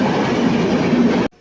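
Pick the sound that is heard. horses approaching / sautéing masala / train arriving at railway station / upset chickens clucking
train arriving at railway station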